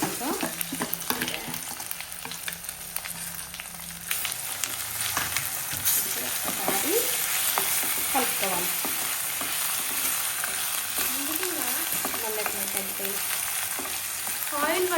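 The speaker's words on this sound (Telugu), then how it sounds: "మిక్సీ పట్టుకున్న పుదీనా పచ్చడిని అయితే తాలింపులో వేసుకోవాలి" Ground mint chutney fries in a hot oil tempering with curry leaves, giving a steady loud sizzle with stirring clinks and scrapes throughout, with no voices.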